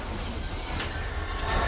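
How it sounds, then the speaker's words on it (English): In the video game Marvel's Spider-Man 2, a train barrels down the tracks toward a scrapyard as a faint, steady rumble with a rushing metallic roar and no voices. "A train barrels down the tracks toward the scrapyard."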